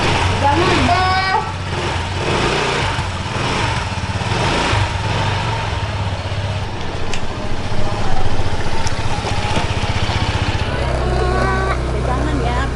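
A small motorcycle being ridden on a test drive, its engine droning loudly and steadily throughout with wind and road noise, and voices talking over it.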